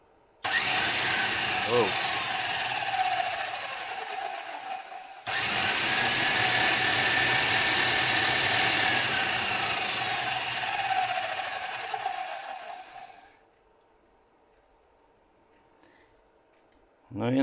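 A Zyle ZY198MG 2000W meat grinder motor runs in reverse with a loud, steady whine and clicking, briefly cutting out and restarting before winding down to quiet near the end; a short voice is heard.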